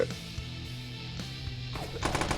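Rapid bursts of automatic gunfire from the Slaughter 2 video game, repeated shots in a loud, busy firefight with several volleys near the end.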